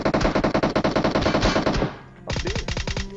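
A VSS rifle fires in a mobile battle-royale shooting game. Rapid suppressed shots come in a long burst, pause for a moment, then a shorter burst follows. The shots are loud and clipped, and nobody talks.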